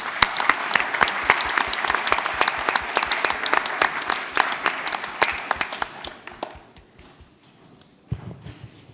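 An audience at a video game event claps in a loud, dense burst that holds steady for several seconds, then fades to a few scattered claps before a final thud.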